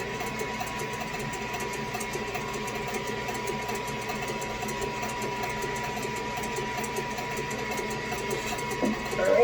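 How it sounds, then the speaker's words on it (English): Electric hand mixer whirring steadily while blending cream cheese and sour cream for a no-bake cheesecake, a constant motor hum throughout at moderate loudness, with a brief bump near the end. "you want to go ahead and start mixing that with the hand mixer?"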